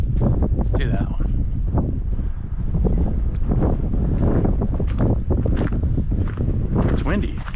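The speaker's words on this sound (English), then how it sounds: "It's windy." Strong wind buffeting a microphone on the Turtle Head Peak Trail among sandstone rocks at Red Rock near Las Vegas on a hot day, a steady loud roar with gusty rumbles throughout and a person talking over it.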